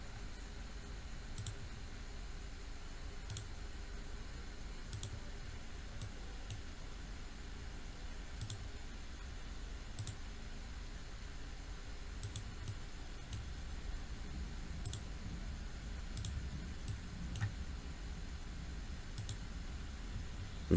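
Sparse, faint computer mouse clicks come while lines are trimmed in AutoCAD, single sharp ticks at irregular intervals over a quiet background hiss.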